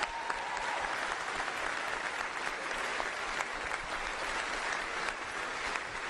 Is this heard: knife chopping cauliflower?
no